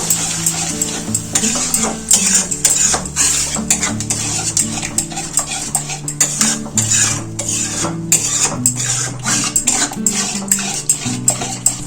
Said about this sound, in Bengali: আর একটু মশলা কষিয়ে নেবো